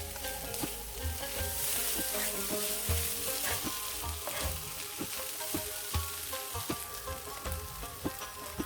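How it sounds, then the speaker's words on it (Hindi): Spices sizzling and frying in a hot pan while being stirred and mixed, a steady crackling hiss throughout with soft scraping strokes of a spoon at irregular intervals, close and moderately loud. "अच्छी तरह से सब स्पाइसेस को मिक्स करेंगे अच्छी तरह से।"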